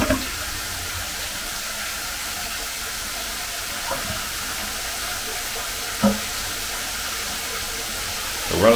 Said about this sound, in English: We're running the sink as well